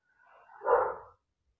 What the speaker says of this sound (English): My dogs keep barking.